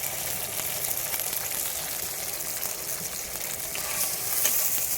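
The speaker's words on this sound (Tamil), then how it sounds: "இப்போ தக்காளி நல்லா வதங்கட்டும்." Tomatoes and onions sautéing in a pan for a country chicken fry, giving a steady, close hiss and sizzle with a slight swell near the end and no talking.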